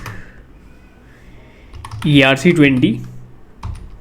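Computer keyboard typing while code is written, soft clicks at a moderate pace that sit under a man's speech in the middle of the clip.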